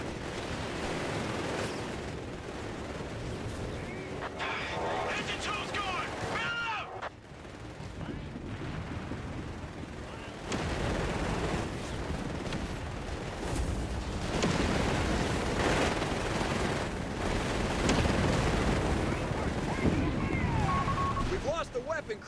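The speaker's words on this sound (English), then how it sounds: "Artillery barrage underway." Artillery barrage in the video game Company of Heroes 3 during a beach landing: repeated heavy explosions and bursts of gunfire, dense and loud, rolling continuously with sharp impacts throughout.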